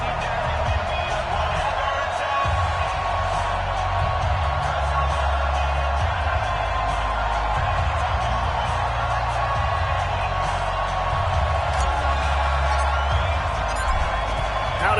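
A home crowd at a Miami Dolphins football game at Hard Rock Stadium in South Florida roars and cheers steadily in the distance, swelling in waves while a broadcast commentator talks over it.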